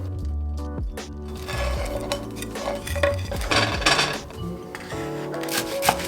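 Metal utensils scrape and clink against a frying pan while grilling food on both sides, over a steady background hum, with irregular clatters and taps throughout.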